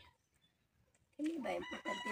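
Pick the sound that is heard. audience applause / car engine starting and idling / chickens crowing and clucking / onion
chickens crowing and clucking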